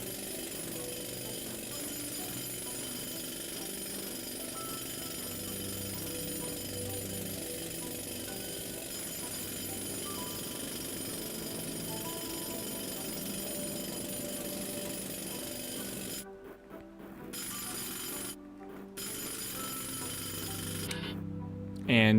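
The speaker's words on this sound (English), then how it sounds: "I love this like jackhammer sound." A drill in the mining video game Sandustry hammers away, a steady loud jackhammer-like rattle that runs continuously, briefly cutting out a few times near the end.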